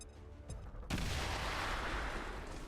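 A grenade blast in the turn-based tactics game XCOM 2: a sudden loud burst of broadband noise that hits at once and stays dense, booming and rumbling as it slowly fades, with quieter crackles just before it.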